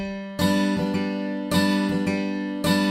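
Strummed guitar chords from a sample library hit in a steady rhythmic pattern, with three strong attacks ringing out between lighter rhythmic strokes, clear and close with no talking.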